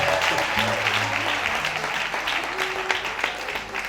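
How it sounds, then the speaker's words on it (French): Audience applause for a singer at a tribute ceremony, a dense steady wash of clapping at full level throughout, with faint voices and tonal sounds mixed underneath. "applaudissez pour lui s'il vous plaît"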